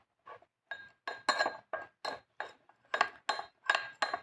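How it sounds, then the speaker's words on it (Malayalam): A spoon clinks repeatedly against a bowl while stirring kasturi turmeric into milk, about ten sharp, close strikes in an uneven rhythm with short pauses between them, and nothing else audible. "ഇച്ചിരി പാലെടുത്തിട്ടുണ്ട് നമുക്കിനി ഇത് നന്നായിട്ടൊന്ന് മിക്സ് ചെയ്യാം"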